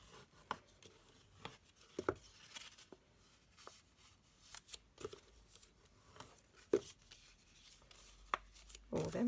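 Scored card stock is folded and burnished along its score lines, giving sparse short rubbing and creasing strokes with soft taps, close and quiet with pauses between them.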